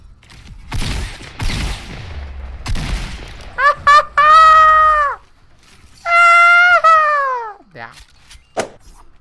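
Gunfire in the video game Fortnite with a shotgun in play: a few sharp broadband shots early on, then long tonal whining and ringing effects, loud and close.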